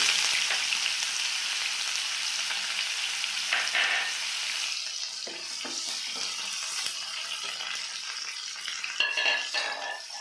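Whole garam masala and chopped onion fry in a pan, a steady close hissing sizzle with scraping and stirring sounds through it and no talking.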